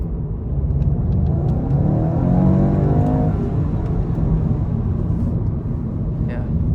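A 2022 eighth-generation Volkswagen Golf GTI accelerates, heard loud from inside the cabin, its engine note climbing in pitch before settling into a steady drone.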